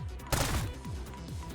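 Upgraded gun in Black Ops 6 Zombies firing at zombies, a rapid burst of sharp, loud shots with punchy low-end impacts in quick succession, up close.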